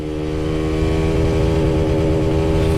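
A TVS Radeon 110 cc motorcycle pulls in second gear, its engine a steady, close, rising drone with a strong harmonic whine building smoothly over a few seconds, no talk.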